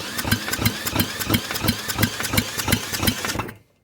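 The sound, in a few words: Raptor 3 engine cranked by Black & Decker drill for compression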